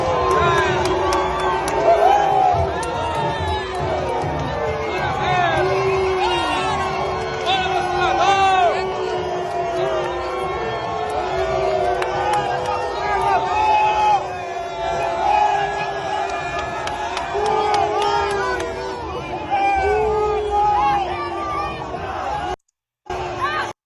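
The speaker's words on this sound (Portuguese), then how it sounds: "E o pessoal foi recebido com vaia" A large crowd at the 2 de Julho parade in Bahia boos loudly and steadily, many voices blending into a sustained, jeering roar with scattered shouts.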